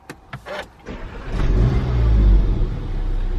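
A VW Golf R started by keyless push-button: a few quick clicks and a whirring starter, then the engine catches and flares loudly before settling into a steady idle rumble close by.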